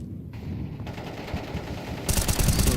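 Gunfire in an esports shooter match played with pistols, a steady patter of shots building to a louder, denser burst of firing near the end, with no talking.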